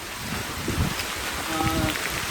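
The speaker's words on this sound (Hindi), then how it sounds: "अभी भयानक बारिश चालू हुई है" Heavy monsoon rain pours steadily across a forest trek in the Tamhini Ghat valley near Pune, a dense continuous hiss with a few low rumbles and faint voices in the background.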